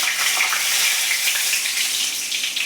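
Dried chilli pieces, alongside curry leaves and asafoetida, sizzle loudly and steadily in hot oil in a kadai while tempering for a mixed vegetable handvo, a continuous close crackle with no talk.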